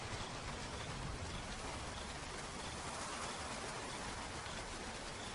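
Steady, dense rain falling on the ground in the Okavango Delta, a continuous loud hiss of countless drops with no break and no voices.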